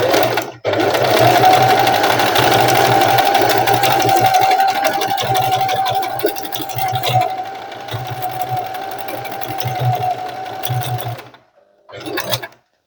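A sewing machine stitches back and forth a few times to anchor a seam on a mini tote bag, a loud, close, steady mechanical whir with slight speed changes before stopping, then a short burst afterward.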